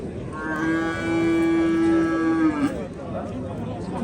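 A cow at an Uzbek livestock market lets out one long, steady moo lasting about two seconds, close and loud over a busy background of market chatter and crowd noise.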